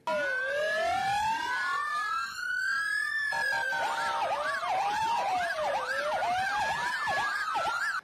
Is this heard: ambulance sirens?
yes